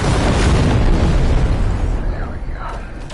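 Weapon fire in the No Man's Sky video game, a loud continuous booming blast wash that fills the whole clip and slowly tails off toward the end, with a voice faintly underneath.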